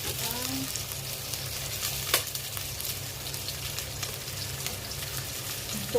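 Tofu stir-frying with onion and ginger in a hot pan, a steady bright sizzle running throughout with a brief clatter near the middle, no voices.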